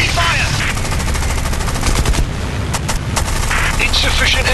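Rapid machine-gun fire from aircraft in the War Wings mobile combat game, dense continuous bursts with sharp cracks, loud and close, with game voice callouts underneath.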